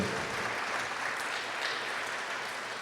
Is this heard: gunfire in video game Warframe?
no